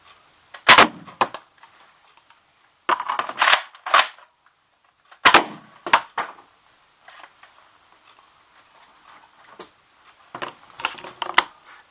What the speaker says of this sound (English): I'm just gonna shoot at something over here, so hopefully I'll be able to get the darts back